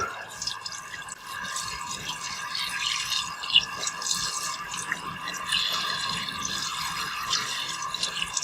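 Water running and rinsing through a raw deer heart in a sink, a steady close trickle and splash with small drips and squishing pulses as it is pumped; no talking.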